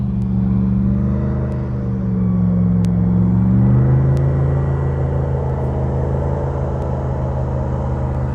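Fire department boats arriving on open water far out in the Everglades, a steady loud engine rumble with a swelling motor drone that builds and holds for several seconds, no talk.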